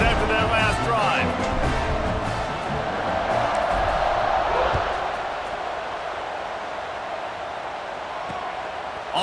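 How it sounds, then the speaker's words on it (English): A stadium crowd cheers in the College Football 26 video game during a Penn State versus Alabama matchup, a broad, sustained roar that swells and then eases while a commentator talks over it. "this crowd is feeling themselves after that last drive"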